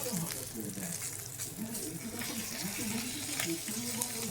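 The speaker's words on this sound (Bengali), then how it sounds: "একটু কড়া করে ভাজবো" Koi fish (climbing perch) fry in hot oil with spices, cooked until crisp. A continuous, close crackling sizzle runs throughout, with a faint voice beneath it.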